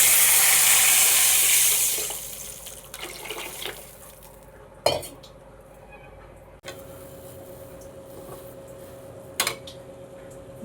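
Water pours steadily into a pot for cooking upma with roasted semolina and vegetables, a loud rushing stream for about two seconds that stops. A few faint clinks and taps from the pan follow in a quiet kitchen.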